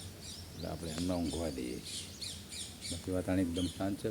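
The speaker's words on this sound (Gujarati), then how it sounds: "પક્ષીઓનો અવાજ આવી રહ્યો" Birds chirp and squawk outdoors around a quiet home in the morning, with brief high calls scattered through the clip while a person talks steadily over them.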